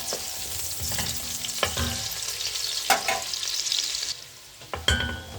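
Butter melts into hot oil in a pan of browned ingredients while cooking juicy meatballs, giving a steady close sizzle with occasional stirring clicks and scrapes.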